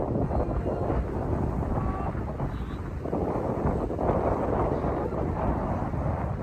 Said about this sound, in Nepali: कस्तो मजाको हावा चल्यो यार